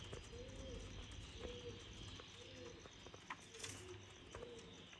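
Soft pigeon coos roll out at a slow, regular pace from a loft, moderately near, over a constant low hum and faint insect-like chirping.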